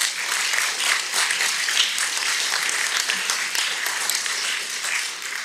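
Audience applause in a municipal council meeting, a dense, even roll of many hands clapping that holds steady for several seconds at moderate loudness with no talk over it.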